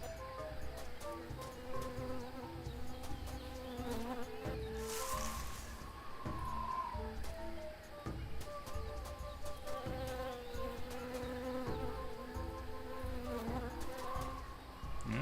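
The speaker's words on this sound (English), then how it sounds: "It sounds like bees this way." Steady, continuous buzzing of a bee swarm in the video game Tales of Monkey Island, with a dense insect drone running unbroken beneath layered game background music.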